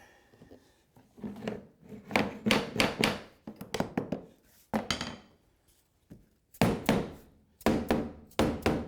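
Hardwood floor boards are tapped into place in a series of sharp, close knocks and thuds that come in irregular bursts, with short quiet gaps between them.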